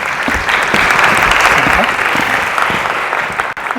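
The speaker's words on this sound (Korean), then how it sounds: "여러분 따뜻한 환영의 박수로 함께 해주시기 바랍니다" An audience at a university chapel service breaks into loud, sustained applause to welcome a speaker, a dense, even roar of clapping that holds steady throughout and fades slightly near the end.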